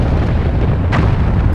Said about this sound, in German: Eine fette Explosion!